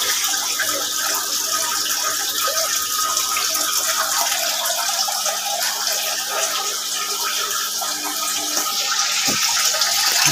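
Water flowing continuously into an aquarium set up for breeding stinging catfish, a steady even rush and splash that holds at the same level throughout with no break.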